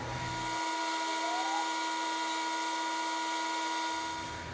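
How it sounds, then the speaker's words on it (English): A steady, close, high-pitched whirring hum of a small rotary sander wet sanding a pen with micro mesh pads runs continuously, with a faint scratchy hiss over the top. "I am going to use these micro mesh pads and some wet sanding to finish this up"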